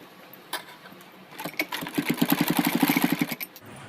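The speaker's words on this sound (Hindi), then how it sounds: "और अब मैं आपको इसको सिलाई करके दिखाती हूँ।" Sewing machine stitching through jeans fabric, a few separate clicks building into a rapid, even run of needle strokes close by, then stopping.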